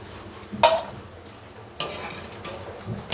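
Boiled pigeon soup pieces are lifted out of a pot, bringing two sharp clanks of a utensil against metal and a later scrape, with quieter clinks and a faint kitchen hiss in between.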